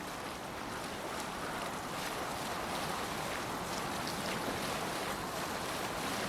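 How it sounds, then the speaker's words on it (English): Rolling ocean waves wash continuously around a sailing boat on open water in Assassin's Creed Valhalla, a broad steady roar of surf and wind with no voices. "Gods, I love being out on the open water. The chill, the mist, the rolling waves."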